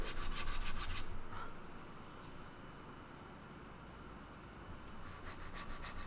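Sandpaper rubbing on the wooden body of an organ pipe, with brisk rhythmic strokes at the start and again near the end and a softer, steady scraping hiss in between, close up and without speech.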